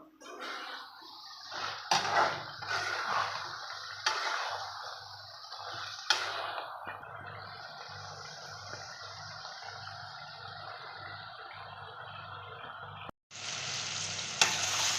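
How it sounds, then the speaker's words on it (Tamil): Mutton chunks for mutton chukka fry in hot oil while being stirred nonstop, a steady close sizzle with scraping spoon strokes, then a brief pause before a louder burst of frying near the end. "கறியை வந்து நல்லா நம்ம பரட்டிகிட்டே இருக்கிறோம் கை விடாமல்"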